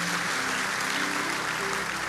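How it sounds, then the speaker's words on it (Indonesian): Worshippers at an onsite Indonesian church service give the Lord a lively round of applause, an even, dense clapping sound with a low sustained organ or keyboard tone underneath, steady throughout. "Beri tepuk tangan yang meriah buat Tuhan."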